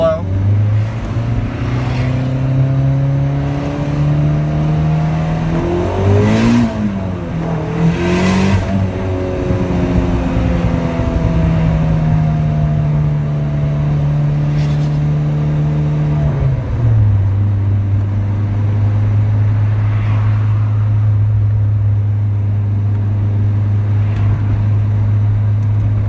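A Callaway turbo Rabbit engine revving in neutral, a steady loud idle that climbs through a few rising and falling revs, then settles back to a smooth low drone.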